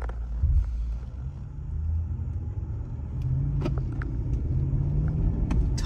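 Steady low engine and road rumble from inside a car cabin on a short drive, continuous and moderately loud with a slight rise in engine note partway through.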